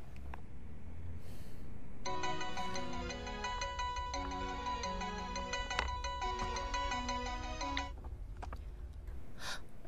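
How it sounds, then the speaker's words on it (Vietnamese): A phone ringtone plays a bright, repeating electronic melody for about six seconds, loud and clear over a low background hum, then stops. "Cậu không nghe điện thoại, mình sẽ gọi cậu cháy máy"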